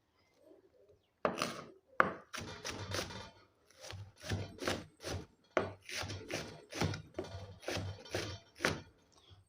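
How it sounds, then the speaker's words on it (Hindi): Onion is chopped finely with a knife on a board in a series of sharp, close taps. A few strokes come first, then the chopping turns steady and fast with short pauses. "चॉप करके आपको प्याज दिखाऊंगी।"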